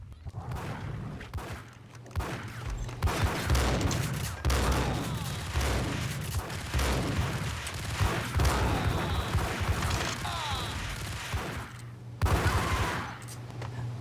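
Gunfire in Max Payne crackles in dense, overlapping bursts for most of the stretch, loud and close, with a short lull near the end before another sharp volley.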